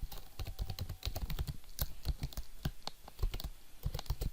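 Rapid clicking of keys as someone types on a computer keyboard while writing a pair-impair parity algorithm, irregular bursts of close, crisp keystrokes with brief pauses, no voices.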